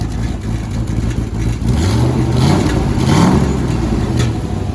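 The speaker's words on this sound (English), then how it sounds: "Give it a good rev." A turbocharged LS V8 swapped into a Mazda Miata idles roughly, then is revved twice in quick blips, the pitch rising and falling each time, loud and close.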